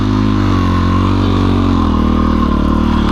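A motorcycle, an XT, rides through 20 inches of snow in the 2017 New York blizzard. Its engine drones loud and close with a steady, rumbling note and no voices.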